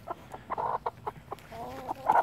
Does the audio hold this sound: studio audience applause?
no